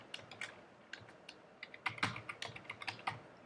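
Fast typing of code on a computer keyboard, a run of crisp, close key clicks in irregular bursts with brief pauses, ending in a quick flurry of strokes.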